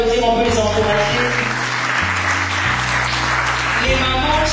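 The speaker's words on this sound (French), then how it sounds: "On peut les applaudir, on peut les encourager." Audience clapping at a school-supplies handout event, applauding the mothers, carries on under loud, thumping background music with shifting bass notes, the claps blending into a steady wash.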